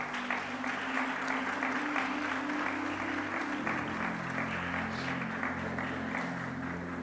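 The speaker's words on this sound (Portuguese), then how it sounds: "vamos dar uma salva de palmas a eles" A church audience applauds a couple with dense, continuous clapping that holds steady from start to finish, while low music or voices murmur beneath it.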